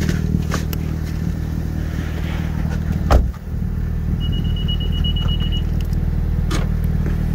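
A modified manual-transmission car idles steadily and close by after a Compustar remote start, its low engine drone constant throughout. A brief thump and clack sound midway, as from a door closing.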